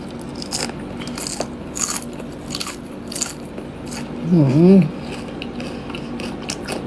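Crunchy snack being bitten and chewed close up, a cluster of crisp crunches over faint background noise, with a voice briefly heard.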